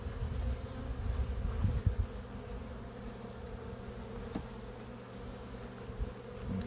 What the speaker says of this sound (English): Oh, a bee just flew on your finger,